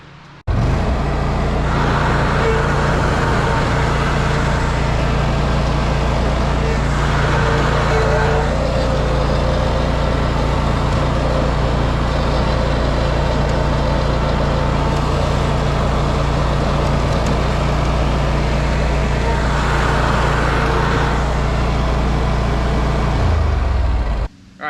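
A Walker hydro mower running steadily after an input shaft repair, a loud, even engine drone held for the whole stretch before cutting off abruptly at the end.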